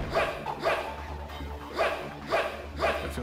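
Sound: dog barking in the video game Shin Megami Tensei: Nocturne

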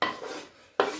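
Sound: cabbage stalks being added to a frying pan

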